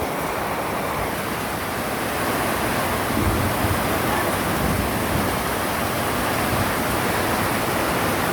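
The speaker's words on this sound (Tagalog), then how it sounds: "nakikiramdam lang sa lakas ng ulan at hangin" A loud, steady roar of heavy rain pours continuously in Montalban, Rizal, Philippines, with gusting wind adding broad rushing swells throughout.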